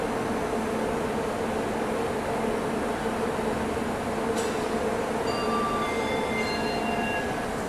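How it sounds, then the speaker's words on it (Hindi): The Basava Express pulls into a station in India with a steady rolling rumble of wheels on rail, close and continuous, with faint high wheel squeals near the end and no voices. "यहाँ पे बसवा एक्सप्रेस की एंट्री हो रही है,"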